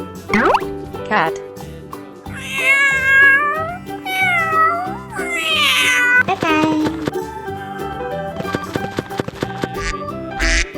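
A cat meows several times in quick succession, loud and close, with drawn-out rising and falling cries and a voice speaking briefly between them, set among a children's farm-animal sound game.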